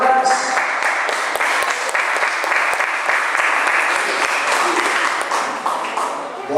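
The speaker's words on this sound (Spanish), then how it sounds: "Dele fuerte el aplauso al Señor." A church congregation applauding during a worship service, sustained loud clapping that carries on evenly for several seconds, with a few voices mixed into the clatter.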